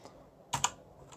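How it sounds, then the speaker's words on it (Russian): Two quick taps on a computer keyboard pressing the Windows key plus L, close and clear, with a faint extra click just after in a quiet room. "вы можете нажать а, значок Windows на клавиатуре плюс буква L"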